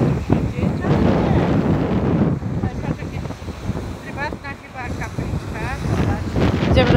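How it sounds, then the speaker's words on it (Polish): Wind gusts buffet the microphone on a hillside spot in Greece, partly sheltered by a small rise, rumbling steadily and loudly throughout, with people talking over it. "Wieje, ale mniej."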